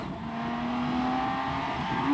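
BMW K1600 bagger motorcycle engine pulling hard into corners, a steady droning growl rising slightly in pitch with wind rush over roughly two seconds, continuous and close.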